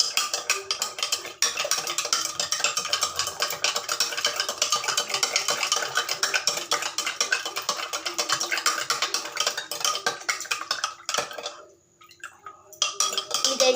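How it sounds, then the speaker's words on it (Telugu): A spoon stirring a mixture in a bowl, giving continuous rapid scraping and clinking that pauses briefly near the end and then resumes. "మళ్ళీ 1 స్పూన్ తీసుకొని కలుపుకోవాలి గైస్"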